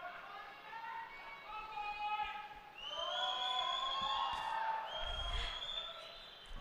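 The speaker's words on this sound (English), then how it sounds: "The crowd is going wild. The fans of Global Esports are going completely bonkers." A big crowd at a VALORANT esports event in India roars and cheers for Global Esports, with sustained whoops and shouts swelling loudly through the middle, under a commentator's voice.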